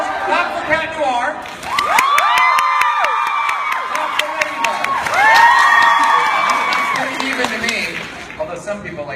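A convention panel crowd at San Diego Comic-Con claps, cheers and shrieks with high whoops for the Cat Noir character, loud and sustained, swelling in the middle before fading.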